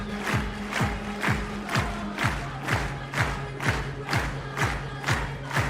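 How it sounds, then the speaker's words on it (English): A German crowd at the Heilbronn high jump meeting claps in a steady rhythmic beat, roughly two claps per second, loud and sustained with a mass of voices underneath. "The German crowd getting behind her for this third and final attempt"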